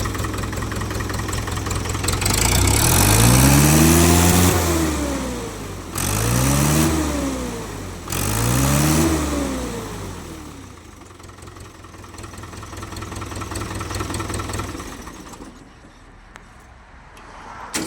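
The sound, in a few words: second-hand tractor engine running and revving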